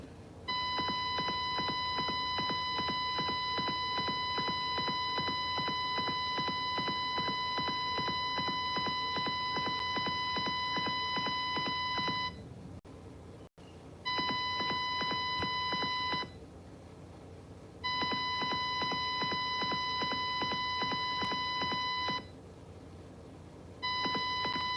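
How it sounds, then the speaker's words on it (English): A loud electronic alarm beeps in rapid, continuous pulses, cutting out briefly a few times before resuming, steady and close. "I can't take that beeping, y'all."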